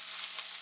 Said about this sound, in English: get startled by the sizzling noise